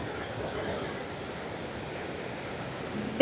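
A steady, soft rush of falling water at Polli waterfall in Wayanad, Kerala, fills the clip, a continuous broadband hiss heard from some distance amid light drizzle, with a brief sharp noise at the end.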